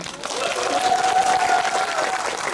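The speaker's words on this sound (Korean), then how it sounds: "박수 한번 주세요." A cinema audience claps at a movie talk event, a dense burst of applause from a full hall that rises and holds steadily, with a faint sustained tone running through the middle.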